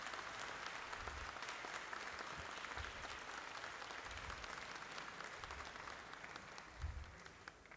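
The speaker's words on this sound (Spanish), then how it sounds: "quiero darle un aplauso, Juan Ignacio." Applause from an audience at a national choir gathering of the judiciary in Valdivia, a steady wash of many hands clapping for several seconds, moderately distant and even, with a few louder low thumps scattered through.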